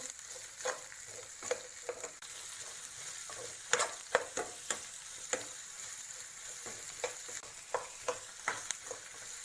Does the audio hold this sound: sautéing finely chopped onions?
yes